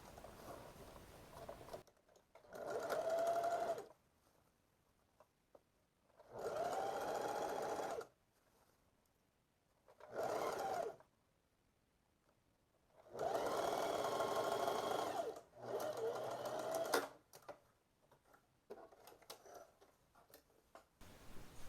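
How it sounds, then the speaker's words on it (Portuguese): A sewing machine stitches the seams of a peplum blouse in five bursts of rapid mechanical whirring and clatter, each lasting a few seconds and separated by near-silent pauses, close and distinct. "costurar a margem de 1 centímetro"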